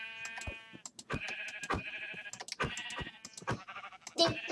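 A sheep in the Minecraft video game bleats over and over, a string of clear, close, wavering cries with short gaps between them.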